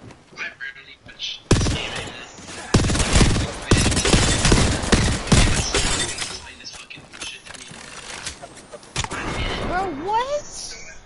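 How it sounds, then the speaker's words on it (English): Rapid gunfire in a shooter game, sharp cracking bursts and volleys packed together in the middle, loud and close, with impacts and mechanical clatter and some whistling effects toward the end. "Why is everyone shooting me?"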